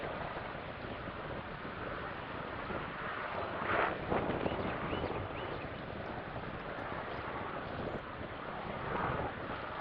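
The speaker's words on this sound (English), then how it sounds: "Look at the weight coming off the boat and the wind and waves." Strong, gusty wind roars and buffets the microphone with a steady rushing wash over choppy waves, as a Dragonforce 65 RC sailing yacht handles heavy whitecap conditions on open water; no clear voices.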